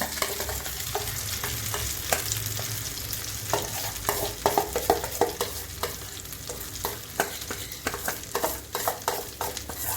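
Pea paste is stirred and fried in a wok: a constant sizzle under repeated scraping strokes of the spatula, with sharp knocks against the pan that become more frequent toward the end.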